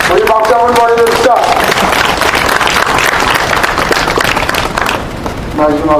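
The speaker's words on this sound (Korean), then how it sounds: "우리 박수 한번 보내줍시다" A crowd at a memorial ceremony and restoration event at Gyeonggyojang breaks into loud, dense clapping that fills several seconds. A voice speaks just before it starts and again as it fades.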